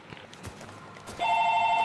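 A telephone rings in the middle of a Battlefield 3 multiplayer match: a bright, steady electronic ring cuts in loudly after a stretch of faint game noise and holds to the end.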